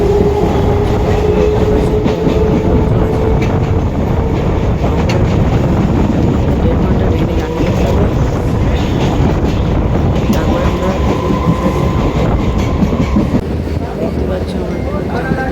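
A passenger train runs steadily on rails in a constant loud rumble with rhythmic clatter and wind buffeting, heard from inside a moving carriage throughout.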